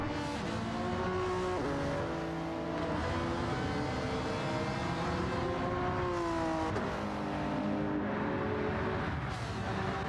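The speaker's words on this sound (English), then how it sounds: "See Chase getting past right now." Race cars in Gran Turismo 7 run hard around a track, engines droning and shifting pitch continuously with rising and falling revs, loud and unbroken throughout.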